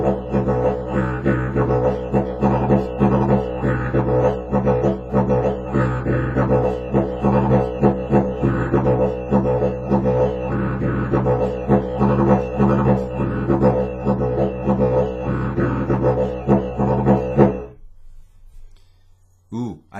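A didgeridoo plays a rhythmic pattern with two variations, a continuous low drone with pulsing articulated accents for about seventeen seconds before stopping abruptly.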